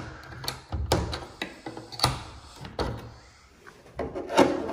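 A pocket door being slid and lifted into place during installation, giving a series of wooden knocks, bumps and scrapes in uneven bursts, close by, with no talk.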